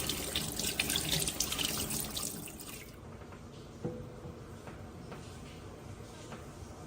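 Water runs from a kitchen tap over a beet being washed, a strong splashing flow that cuts off partway through, leaving faint drips and a small knock in a quiet room.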